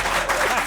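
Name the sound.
applause from the studio control room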